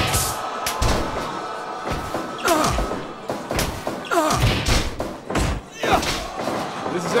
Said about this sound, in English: Oh God, another exploding bat.